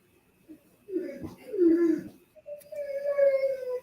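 A dog indoors whines at another dog it sees outside. It gives several drawn-out, wavering high whimpers and a longer rising whine, close and fairly loud.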